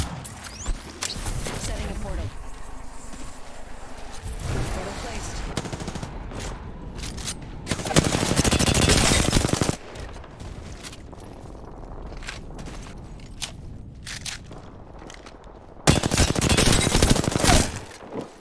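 Gunfire rattles through a match of the video game Apex Legends on Kings Canyon, with several loud bursts of rapid shots set apart by calmer stretches and a voice talking now and then in between.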